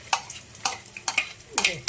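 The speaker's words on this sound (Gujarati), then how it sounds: "હવે આપણે અહીંયા લસણ એડ કરી નાખીશું." Garlic frying in oil for tempering, heard as a sizzle under repeated sharp scraping strokes of a stirring spoon against the pan, four quick scrapes spaced about half a second apart.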